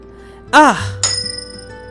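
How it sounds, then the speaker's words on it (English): Plate shattering in a kitchen in the video game Crave Saga X, heard as a sharp glassy clink with a bright ringing decay, just after a short voiced exclamation. "The sound of shattering echoes throughout the kitchen."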